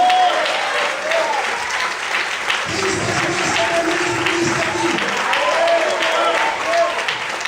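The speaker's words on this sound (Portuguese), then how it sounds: "Vamos poder aplaudir o Senhor essa noite" Church congregation applauding during an evening service, loud sustained clapping while a preacher speaks over it.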